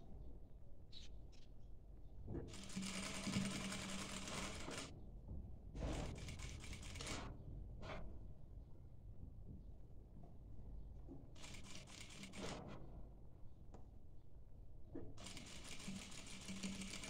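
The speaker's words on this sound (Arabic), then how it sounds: "ونبدا نخيط" A sewing machine stitches a dishdasha in quick runs of rapid mechanical whirring, starting and stopping several times with quiet pauses between bursts.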